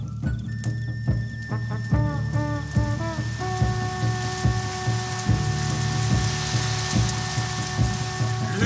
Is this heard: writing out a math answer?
no